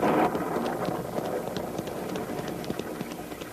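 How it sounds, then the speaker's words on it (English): Steady rain hiss in an old-time radio drama, a continuous wash of falling drops on a surface heard up close, with faint bumps and knocks mixed in and no voices. "The rain's only beginning."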